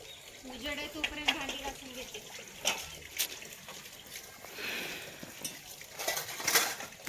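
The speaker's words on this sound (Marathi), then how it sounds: "आल्यावर भांडी घासायला बसली" Dishes being washed by hand: plates and utensils clink and scrape amid trickling water, with soft, intermittent clatter at close range.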